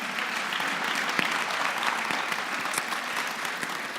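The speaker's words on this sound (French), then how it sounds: "On peut l'applaudir, oui." Audience at a mayor's New Year wishes ceremony in Fresnes-sur-Escaut applauding steadily, a dense even wash of many hands clapping for about four seconds with no voices on top.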